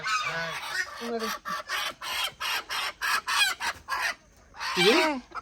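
A chicken clucks in a quick series of about a dozen short, close squawks, with a louder burst near the end.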